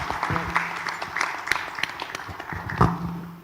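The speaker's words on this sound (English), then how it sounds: "Let's give them a big round of applause." Audience applause at an international mayors forum, a crowd clapping steadily for a few seconds with a couple of louder claps standing out near the end.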